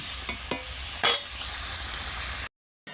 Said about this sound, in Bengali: এবার মাছগুলো আমি 100 মাছ পরপর দিয়ে দিচ্ছি। এই মাছ দেওয়ার পরে আমি কিছু সময় ফুটিয়ে নেবো।